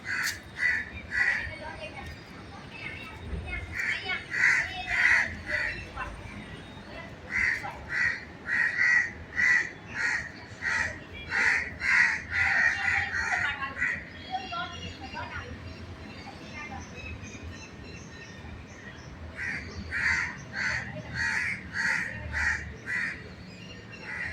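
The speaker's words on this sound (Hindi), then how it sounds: "देखिए कितना काँव काँव करते हैं।" A flock of crows cawing loudly from a tree, disturbed by a monkey, in repeated bursts of harsh calls that nearly fill the stretch, with a brief lull in the middle, alongside some talk.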